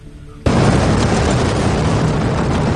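Atomic bomb explosion at Hiroshima: a sudden loud blast that bursts in after a brief quiet moment, then a sustained, dense roaring rumble that holds steady and fills the space to the end.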